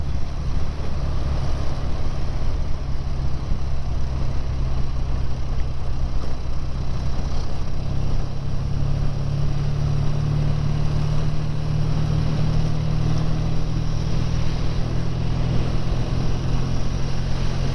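A BSA A10 650 motorcycle running while being ridden, giving a steady, loud engine drone with a low rumble throughout and a slight rise in pitch partway through, no talking.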